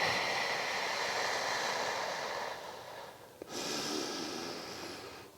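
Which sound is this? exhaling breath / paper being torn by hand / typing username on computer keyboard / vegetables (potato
exhaling breath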